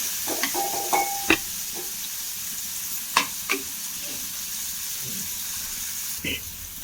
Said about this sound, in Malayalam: ചെറിയ ഉള്ളി കൂടി ഇട്ട് കൊടുക്കാം അതൊന്ന് വാടി വരട്ടെ